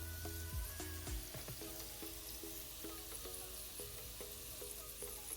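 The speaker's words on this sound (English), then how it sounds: "And the vegetable just sauteing by the side." Vegetables sauteing in a pan beside egg toast, a steady low sizzle and frying crackle with occasional stirring clinks, close and fairly quiet throughout.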